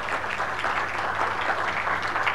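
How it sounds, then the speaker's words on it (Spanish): Applause from a conference audience welcoming a speaker at an internet governance forum session, a steady, moderately loud patter of many hands clapping with a low hum underneath. "También lo vamos a recibir con un aplauso."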